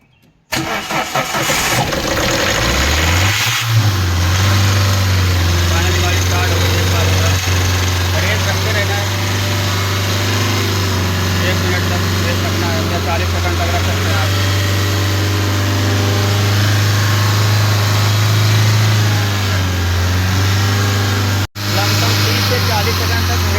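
A Tata Safari diesel engine cranks briefly, catches and settles into a loud, steady idle close by that runs for about twenty seconds with a short break near the end.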